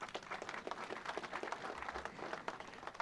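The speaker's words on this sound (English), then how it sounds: "Let's give our chief guest a better clap." Applause greets the chief guest at a university graduation ceremony, a quiet, steady patter of many hands spread across a large audience, faint and somewhat distant, continuing without a break for the full stretch.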